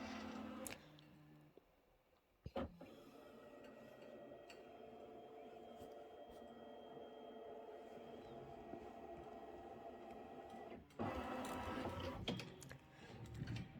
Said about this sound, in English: It's going to move your whole hoop. It's going to take a picture of everything that's in the hoop.